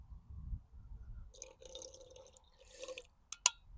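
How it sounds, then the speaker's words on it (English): Milk poured into porridge at a motorcycle campsite, heard as a faint, brief liquid trickle and splash building over a few seconds, then a sharp clink near the end, close and quiet against low background rumble. "add a little bit more milk,"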